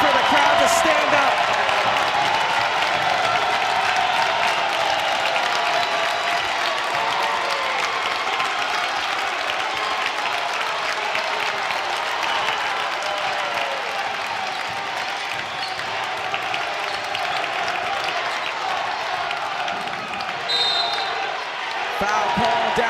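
A packed high school boys basketball gym at Wheeling Central roars continuously with crowd cheering and applause, loud and sustained throughout, with balls bouncing and play continuing underneath.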